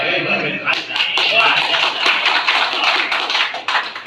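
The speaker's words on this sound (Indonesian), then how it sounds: "Tepuk tangan." A crowd claps at a mosque gathering marking the inauguration of a BAZNAS zakat board, a dense steady patter of many hands lasting several seconds with voices mixed in.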